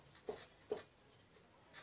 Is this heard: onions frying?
no